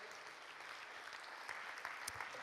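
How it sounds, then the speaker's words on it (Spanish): Church congregation applauding together during a sermon, a steady dense patter of clapping hands held at an even level for a couple of seconds with a few sharper claps near the end. "Dele ese aplauso al Señor"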